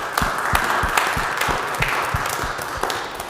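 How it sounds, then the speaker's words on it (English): An audience at a seminary talk claps for the speaker, a steady patter of applause from a modest-sized group, fairly close and even throughout, with no talking. "Let's give Karl a round of applause here."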